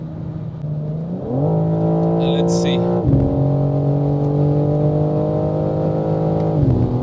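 A 510 HP BMW M4 G82 pulls hard on the Autobahn, its engine note climbing steadily through the gears with a brief dip at each shift, loud and close from inside the cabin, with a short spoken phrase near the start.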